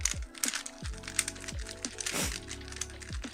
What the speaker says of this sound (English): It just sounds like a regular keyboard. It's not mechanical.